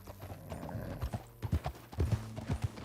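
Horse hooves clip-clop at a quick gallop on dirt in the Red Dead Redemption 2 video game, an uneven drumming rhythm of thuds, close and steady, with no talk.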